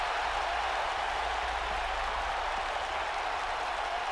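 A steady wash of arena crowd noise and applause from a WWE 2K wrestling match between Jon Moxley and Finn Balor, continuous and fairly loud with no breaks.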